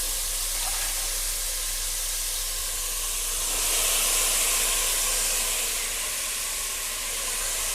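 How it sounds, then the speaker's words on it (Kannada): Vegetables, including potato and eggplant for a chickpea and pea curry, fry in a pan with a steady, close hiss of steam that swells midway and then settles, with no speech. "ಇವಾಗ ಇದನ್ನ ಒಂದು ಎರಡು ನಿಮಿಷ ಚೆನ್ನಾಗಿ ಫ್ರೈ ಮಾಡ್ಕೊಳ್ಳೋಕೆ ಬಿಟ್ಬಿಡೋಣ"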